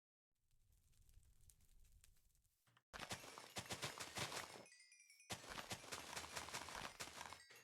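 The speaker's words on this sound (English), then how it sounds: "I never like it when I hear explosions." Rapid bursts of blasts and crackling gunfire-like pops in the GregTech New Horizons Minecraft modpack, starting faint and then turning loud and dense, with a brief pause before another sustained volley.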